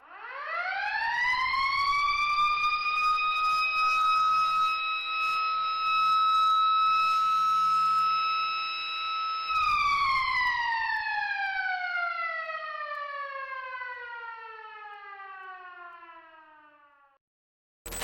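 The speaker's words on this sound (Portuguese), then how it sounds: "um alarme foi tocado. Era uma espécie de sirene alta para avisar que as coisas não estavam normais" A loud prison alarm siren wails alone for about eighteen seconds in Pavilion 9 of Carandiru, holding a steady rising tone before slowly sliding down in pitch as it winds off.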